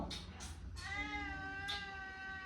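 A cat meows twice in short quick calls, then gives one long drawn-out tonal meow with a final brief cry, close by on a farm over a low steady background.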